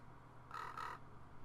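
Crows in the video game Soul Reaver 2 give a single brief, harsh caw over a low, quiet game ambience.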